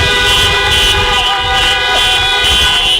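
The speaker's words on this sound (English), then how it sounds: "let's give him a thank you farewell honk for all of his contributions to bread" Farewell honk for a retiring member at a BREAD Nehemiah Action assembly: a loud, sustained horn tone with steady harmonic bands runs for the full three seconds over a noisy crowded room.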